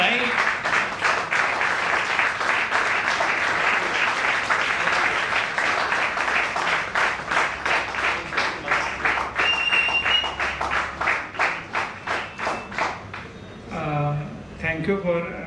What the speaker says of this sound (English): he needs a standing ovation for what he has done, right?